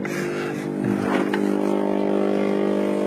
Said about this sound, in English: the steamer is making a little bit noise